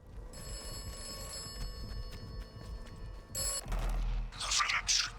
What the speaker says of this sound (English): Phone's ringing this time.